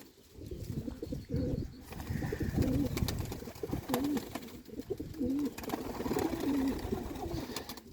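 Pigeons coo repeatedly over a steady background of bird chatter and rustling, several soft rolling calls close by.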